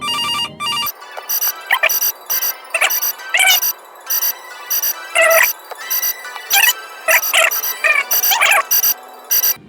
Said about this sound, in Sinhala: ෆෝන් එක ළඟම රින් වෙන්නේ